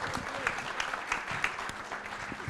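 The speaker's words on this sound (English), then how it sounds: "So a round of applause," Audience applause at a symposium, a moderate, even patter of many hands clapping at a slight distance, with faint voices underneath.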